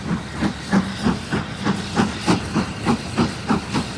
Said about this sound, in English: Here we see the train passing over a bridge over a small stream.